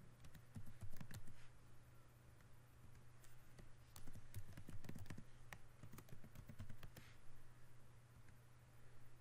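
A computer keyboard is typed on in bursts of quick, light clicks while logging in, fairly quiet and close over a faint background hum, with no speech.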